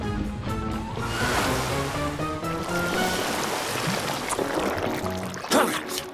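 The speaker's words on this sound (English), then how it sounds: "Morphle, spray their slime away with your water!" A steady rushing hiss of cartoon water spraying away slime, continuous and fairly loud, with faint voices and splashy bursts underneath.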